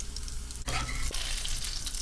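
Eggplant omelette fries in a pan with a steady, close sizzle and a few brief clatters, no voices.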